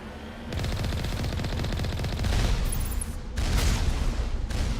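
Automated gun turrets firing on the Virmire mission of Mass Effect Legendary Edition: a dense, sustained burst of rapid automatic gunfire, loud and continuous, with a brief dip before the volley resumes.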